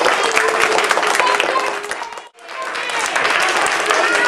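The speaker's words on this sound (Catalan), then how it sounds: "Molt bé, un aplaudiment" Children applauding in a classroom during a school intercultural week, a loud close burst of many small hands clapping that stops abruptly for a moment, then resumes just as strongly.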